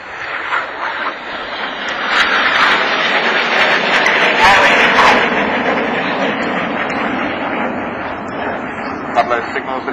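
Red Arrows jet aircraft roar through a flying display at Southport Airshow, the engine noise swelling loud and rushing before easing off, with a commentator talking over it.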